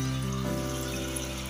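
Water poured into masala frying in oil for degi aloo kofte, a steady close trickling, running-water sound with faint sizzle beneath, no talk.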